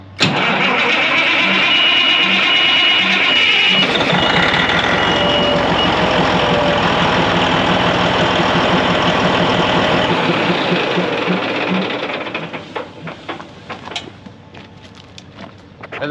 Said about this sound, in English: and then fire up your pump. Wait for it to cycle